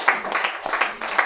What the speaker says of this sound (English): So keep clapping, please.